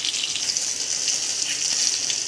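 Green chillies roasting in a hot pan give a steady, even hiss and faint crackle throughout, fairly loud and close with no talking.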